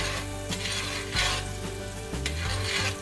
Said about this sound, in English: It's sizzling, but I need a little more than that.